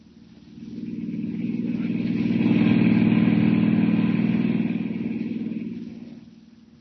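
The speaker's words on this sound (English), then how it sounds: "Hiring a car, Clark Kent heads out at once on the dusty road to San Miguel, 50 miles away." A hired car drives along a dusty road, its steady engine drone swelling as it draws near and fading as it passes, alone without talk.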